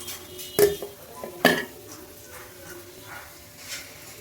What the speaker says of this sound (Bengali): এবার আমি ঢাকাটা দিয়ে আবার ঢেকে রেখে দেবো।